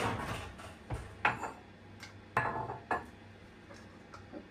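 A bowl for mixing eggs is taken out, with a few light clinks and knocks of dishware against a counter. The sounds are spaced irregularly and moderately close.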